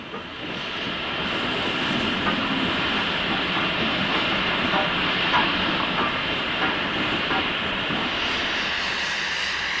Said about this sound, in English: a Class V2 enters Perth General Station with a postal working